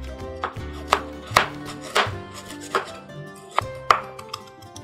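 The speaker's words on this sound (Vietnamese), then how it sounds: "Bây giờ thì mình sẽ đi băm cái phần hành tỏi với gừng" A knife mincing shallots, garlic and ginger rapidly on a cutting board, with a steady series of sharp, close taps and no talking.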